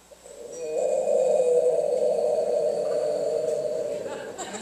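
A person imitates a very low, guttural bird call, holding one long, droning, throaty tone for about four seconds, close and fairly loud, with no other sounds around it.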